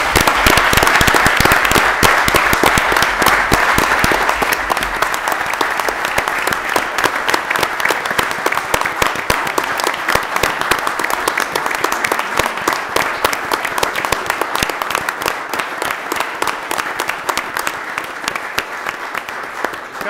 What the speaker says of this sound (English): Now we can clap for these guys.